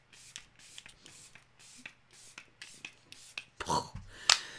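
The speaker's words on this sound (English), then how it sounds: "let me spray this face" Anastasia Impeccable Setting Spray misted onto a face, heard as a run of soft, close hissing puffs with small handling rustles, ending in a couple of sharper, louder spritzes.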